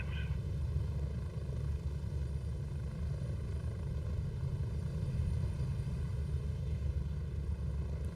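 A military helicopter in the Gray Zone Warfare video game gives a steady, heavy rotor rumble and engine drone that holds constant throughout, close and loud, with no voices.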